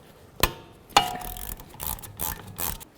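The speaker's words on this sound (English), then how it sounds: "Hold the slider, remove the bolt." Brake caliper slider bolt on the rear brakes of a 2006-2012 Ford Fusion being loosened with a wrench: two sharp metallic cracks, then a run of ratcheting, scraping clicks, close and moderately quiet.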